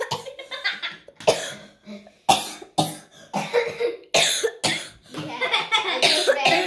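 Repeated coughs, several sharp bursts spaced irregularly, close and loud, with some throat noise between them and no talking.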